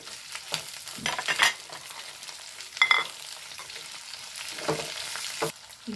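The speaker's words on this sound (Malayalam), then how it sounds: "ഇനി ഇതിൻ്റെ കൂടെ പച്ചമുളക് ഇട്ട് കൊടുക്കേ പച്ചമുളക് ഒന്ന് വാടണേ" Green chillies frying in oil for a pickle, with a soft steady sizzle broken by several louder stirring scrapes and clatters; close by, with no voices.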